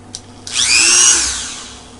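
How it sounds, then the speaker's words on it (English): A Dremel fitted with a metal cutting bit gives a couple of brief clicks, then spins up into a loud, high-pitched whine that holds for about a second and slowly winds down. "Dremel with a metal cutting bit"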